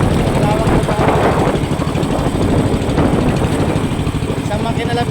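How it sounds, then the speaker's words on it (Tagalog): A single boat engine running on a choppy sea, a continuous loud, close, throbbing drone that holds steady throughout, with a voice talking over it. "Isang makina lang pinandar natin kasi alon ngayon."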